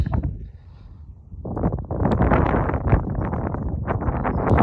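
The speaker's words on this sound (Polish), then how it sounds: "Odwrócę się od wiatru" Wind buffets an outdoor microphone while someone digs in the ground, a steady loud roar of gusts rising after a brief lull and filling the rest of the clip.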